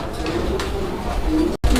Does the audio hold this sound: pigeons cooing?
yes